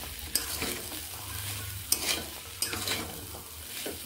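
Peas for ghugni stir-fried in a pan, with a spoon scraping and stirring through steady sizzling. Sharper scrapes land every second or so, close up and with no voices.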